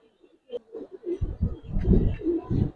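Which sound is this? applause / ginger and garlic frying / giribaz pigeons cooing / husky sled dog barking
giribaz pigeons cooing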